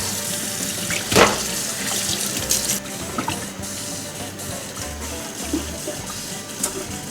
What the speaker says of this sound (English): let's turn on the water and clean this thing up